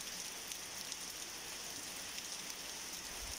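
Heavy rain falls steadily in Menorca, Spain, a dense, even hiss of drops that stays constant and fairly faint, with no voices.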